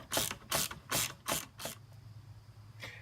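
Ratchet with an 8mm socket on an extension loosening the battery clamp in a Ford Fusion Hybrid engine bay: five quick bursts of dense clicking, close and loud, then a pause and one short final burst.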